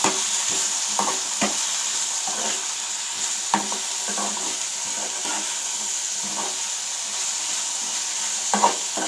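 Small bitter gourds fry in a pan with salt and turmeric while being stirred, giving a steady, hissing sizzle with soft, scattered scrapes and taps of the spoon, and a few louder knocks near the end.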